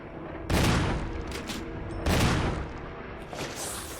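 Two heavy shotgun blasts in Resident Evil HD Remaster boom about a second and a half apart, loud and close, each followed by a fading tail and softer game sounds.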